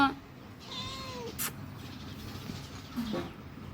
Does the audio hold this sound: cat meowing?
yes